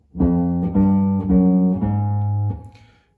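An electric guitar plays five clean single notes of a spider finger exercise in a steady, even sequence, each picked distinctly and ringing briefly, then fading out.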